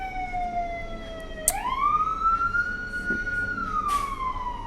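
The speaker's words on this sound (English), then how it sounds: "sorry about the siren" A wailing siren sweeps up and down, steady and fairly close, as an emergency vehicle passes with road noise underneath.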